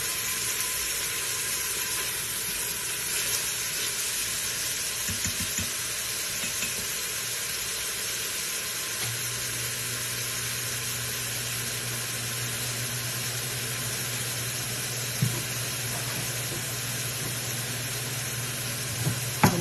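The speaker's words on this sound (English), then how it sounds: "We wanted them to get real nice and sauteed down on in here." Food sauteing in an Instant Pot for Southern black-eyed peas gives a steady, close sizzle and hiss throughout, with a low hum joining partway and a few faint clicks of stirring.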